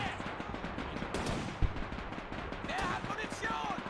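Mortar shells and machine gun fire rattle through a Men of War 2 battle, a dense barrage of rapid bursts with one sharp thud, while someone talks over the gunfire.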